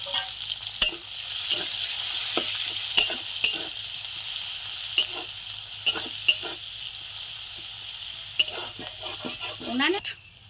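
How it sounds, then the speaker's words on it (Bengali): Chopped onion frying in oil in a wok, with a steady broadband sizzle throughout, punctuated by sharp stirring clicks of a utensil against the pan and a brief scraping sweep near the end. "আর পেঁয়াজটা ভাজা ভাজা হয়ে গেছে"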